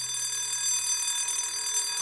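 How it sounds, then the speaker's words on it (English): Building fire alarm signal sounding as a steady, loud, continuous electronic tone for the full two seconds, with no voices. "On hearing the fire alarm signal on your floor, you are to collect your personal belongings"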